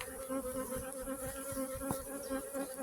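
Honey bees hum close around a beehive in a steady, dense buzz, with a few louder wingbeats from individual bees passing near.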